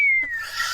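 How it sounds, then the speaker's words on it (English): A slide whistle sound effect plays one short, clear tone that glides steadily downward in pitch, alone and close. "Slide whistle."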